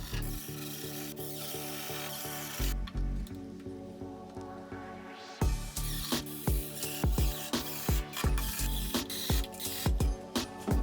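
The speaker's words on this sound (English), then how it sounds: "I attached the handles with 3/4-inch screws and small washers" A power driver sets 3/4-inch screws with small washers to fix handles onto small-part storage carts, with bursts of motor whir and rattling clicks, a brief pause, then repeated sharp short pulses as each screw seats, close and with no talk.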